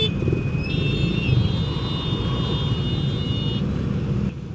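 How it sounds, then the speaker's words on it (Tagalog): Monday rush-hour road traffic on Molino Road, a steady, close, broadband roar of engines and tires with a sustained high tone running through it. "Kita nyo ba yung traffic na yan?"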